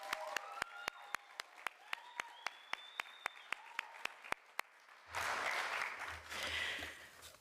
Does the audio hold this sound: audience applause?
yes